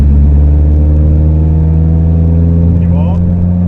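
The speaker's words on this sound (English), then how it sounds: "You literally just put your foot down and you're going." A Honda Civic Type R FN2 with a K24 engine pulls hard on the road, its loud, steady engine drone rising slightly in pitch as it accelerates, heard from inside the car.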